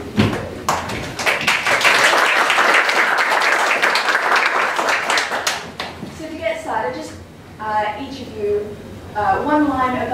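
A live improv-festival audience in Hawaii bursts into loud, dense applause and cheering to pick a contestant; the clapping runs steadily for about six seconds, then gives way to a performer speaking.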